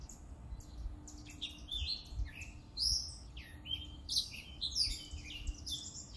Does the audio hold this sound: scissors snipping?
no